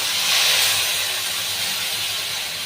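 Mustard paste hits hot oil in a pan for a Bengali egg curry, a loud, dense, steady sizzling hiss close by that eases off slightly, with no talking.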